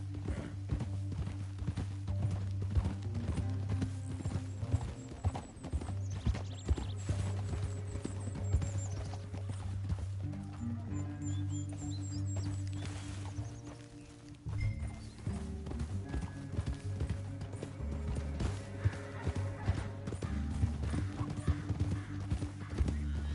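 Horse hooves clip-clop steadily in the Red Dead Redemption 2 video game, a continuous rhythmic trot over a bed of music with an occasional whinny, moderately loud throughout.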